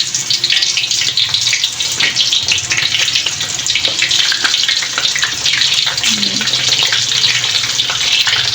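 Banana pieces frying in hot oil in a pan give a loud, dense, continuous sizzle and crackle, with occasional stirring, and no talk over it.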